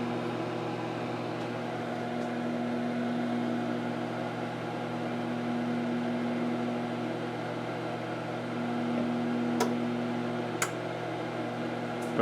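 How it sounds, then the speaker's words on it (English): A running microwave oven gives off a steady, continuous mechanical hum with a faint electrical buzz, unchanging throughout, plus a couple of small clicks near the end. "she's going to turn on the microwave"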